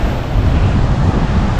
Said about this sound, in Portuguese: olha o vento que tá batendo aqui na nossa, nossa praia do Ceará